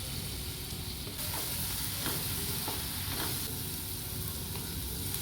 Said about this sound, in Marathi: त्याच्यामध्ये 1 शिमला कट करून घेतलेली परतून घ्यायची